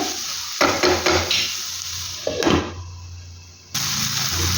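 Tomato and cabbage for a veg roll filling fry in a pan, with a few scraping stirs early on and a steady sizzle running underneath, close and fairly loud with no talking.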